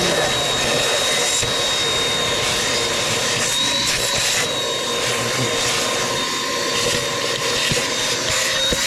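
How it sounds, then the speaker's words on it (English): Vacuum steadily whining and roaring while cleaning out the engine cylinders of an Allis Chalmers road grader, close and continuous at an even level, with faint tonal hum and occasional light knocks, no talk. "we've just vacuumed out everything in the cylinders"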